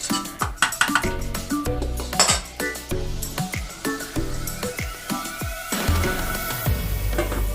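Dishes and pots from a large pile are washed by hand, with dense, continuous clinking and clattering of metal and crockery knocking together close by, and no talking.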